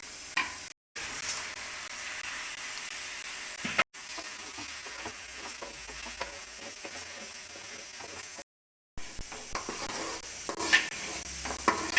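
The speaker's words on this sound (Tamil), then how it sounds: "எல்லாம் நல்லா மிக்ஸ் ஆகிற வரைக்கும் நல்லா கிளறி விட்டுக்கணும்." Chicken stirred into fried ground masala in a pan, a continuous sizzle under scraping and clinking of the spoon against the pan, broken by brief silent cuts.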